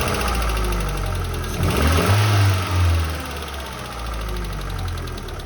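A Nissan Bluebird engine idles with a rough, knocking mechanical chatter, then revs up sharply around the middle and drops back to idle, loud and close with no talking.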